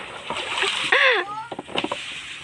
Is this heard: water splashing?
yes